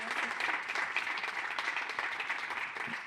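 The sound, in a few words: audience applause after round table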